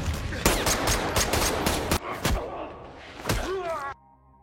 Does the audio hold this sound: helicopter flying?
no